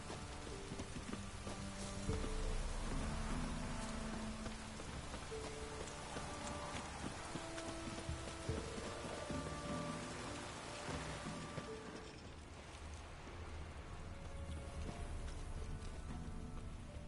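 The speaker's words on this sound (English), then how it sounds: "Looks like rain." Quiet, steady rain falls in a Witcher 3 game scene as a soft continuous patter, with faint horse hooves and low tones beneath it.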